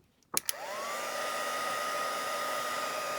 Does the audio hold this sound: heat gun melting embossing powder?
yes